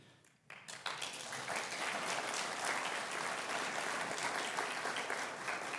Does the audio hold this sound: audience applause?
yes